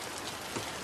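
Steady rain falls outdoors near a house, a dense, even hiss of drops spread across the whole short moment with no voices.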